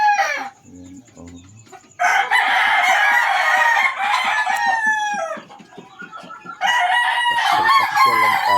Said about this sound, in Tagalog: Buksan tayo sa mga manok natin.